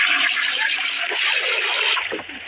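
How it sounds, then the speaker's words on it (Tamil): A toilet flushes in one loud continuous rush of water that churns steadily, then tapers off as the bowl drains. "ஃப்ளஷ்"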